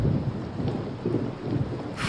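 Heavy rain pours steadily with a low rolling rumble of thunder underneath, a dense, loud storm wash with no voices, cutting off abruptly at the end.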